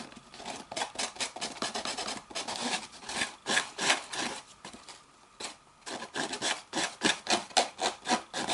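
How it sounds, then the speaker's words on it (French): The edge of a cardboard toilet paper roll is filed by hand in quick, repeated rasping strokes, close and steady with a brief pause midway, and no voices. "On va limer."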